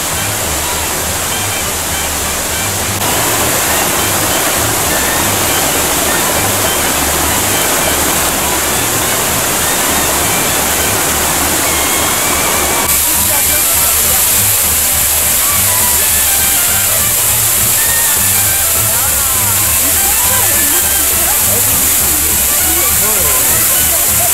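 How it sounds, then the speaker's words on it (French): The Saut de la Truite cascade near Vic-sur-Cère roars steadily, a loud, continuous broadband rush of falling water heard up close, growing fuller partway through with no voices. "Une autre cascade plus impressionnante, celle du Saut de la Truite."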